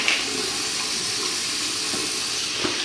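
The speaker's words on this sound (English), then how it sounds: "Ooh, this cold water feels good." Cold water runs steadily from a sink tap during a bathroom night routine, a continuous close hiss with no break and no talking over it.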